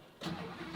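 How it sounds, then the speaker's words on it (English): A Lamborghini Huracán Performante V10 engine firing up, a sudden loud crank-and-catch that settles into a deep rumble, close by and brief. "we have to fire up the car, which is not a problem because listen to this V10"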